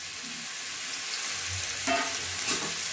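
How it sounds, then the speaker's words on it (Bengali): Mushrooms frying in a little oil in a kadai, a steady close sizzle with occasional scraping stirs from a spatula against the pan. "এবার আমি কড়াইয়ের মধ্যে যেটুকু তেল আছে ওর মধ্যে এই মাশরুমগুলো সব দিয়ে"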